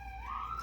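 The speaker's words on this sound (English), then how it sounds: "The police siren in the background not helping." A police siren sounds in the background, a single wailing tone sliding upward and holding high, faint and distant over a low hum, with no one talking.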